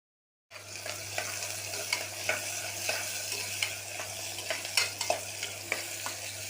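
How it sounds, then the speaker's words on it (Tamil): Onions sauté in hot oil inside a cooker along with whole spices such as cinnamon, cloves and cardamom, giving a steady close sizzle broken by the scrape and clatter of stirring, with no talking. "வெங்காயம் வதங்கிருச்சு"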